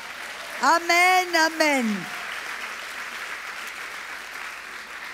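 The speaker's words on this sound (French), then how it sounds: "Est-ce qu'on peut applaudir Jésus?" A church congregation at a miracles and healing evening breaks into sustained applause that fills the room, following a brief sung call from a single voice.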